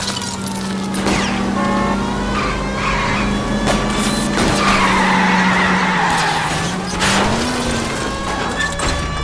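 Tires squeal loudly and continuously as a car skids through a chase in L.A. Noire, with a steady engine drone beneath and the pitch of the screech wavering.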